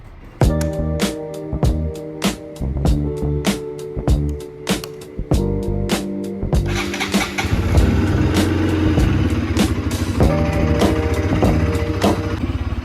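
A motorcycle idles after a cold start, with a loud, close, regular thumping beat that thickens into a steadier, fuller engine rumble partway through.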